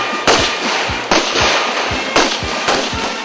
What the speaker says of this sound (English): loaded their rifles for the first time with live bullets, lay down and prepared to shoot.